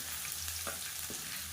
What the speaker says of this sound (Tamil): இப்போ இது எல்லாத்தையுமே நல்லா வதக்கி விடலாம்.